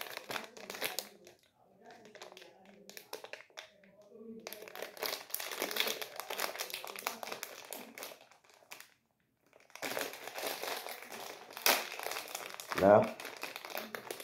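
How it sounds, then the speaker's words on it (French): A small plastic bag from an AliExpress parcel is opened, crinkling and rustling loudly in long bursts up close, while a person talks over and between the handling. "On va ouvrir le petit sac."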